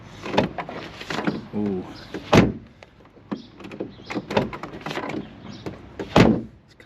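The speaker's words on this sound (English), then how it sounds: "Let's just try the door one more time." A crash-damaged Audi TT's door being opened and shut gives several loud thunks and latch clunks, with mechanical rattles between them and a person talking briefly up close.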